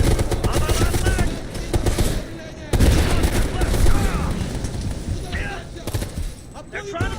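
Dense, continuous automatic machine gun fire from a multiplayer shooter video game chatters loudly throughout, with rapid bursts and brief breaks, mixed with players talking.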